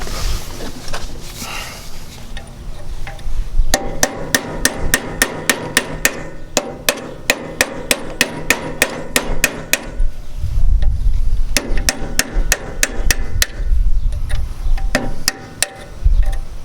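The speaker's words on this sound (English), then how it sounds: "I hit it right here 2 or 3 times, just tapping on it" Repeated metal hammer taps on a Cub Loboy 185 tractor part, struck in quick bursts of sharp, ringing clicks with short pauses between groups, close and loud over a low mechanical background.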